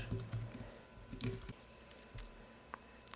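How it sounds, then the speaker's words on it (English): Typing on a computer keyboard while entering a message, with bursts of close keystroke clicks separated by short pauses, then a few isolated taps, recorded alone in a quiet room. "I'm going to type in a message"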